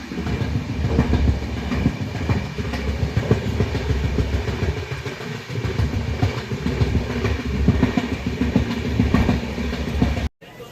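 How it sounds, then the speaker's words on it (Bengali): A passenger train rolls steadily on its rails in dense fog near New Jalpaiguri, heard from on board as a continuous loud rumble with faint clickety-clack throughout, cutting off abruptly near the end. "এই আমাদের ট্রেন দাঁড়িয়ে আছে"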